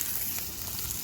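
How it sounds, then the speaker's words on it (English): Steak hits a buttered hot pan and sizzles with a dense, steady crackle, close and fairly loud, over about a second with no voices. "Go ahead and add that steak in. Listen to it"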